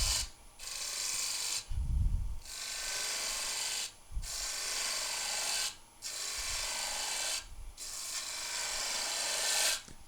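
A spindle gouge cuts into timber on a wood lathe, giving broadband scraping bursts broken by several short pauses and low thumps as the tool lifts and reengages, close and fairly loud with no voices.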